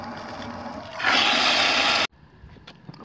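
Water rushes from a kitchen tap into a sink being filled with soapy water to soak a griddle plate, a steady loud gush for about a second before cutting off abruptly.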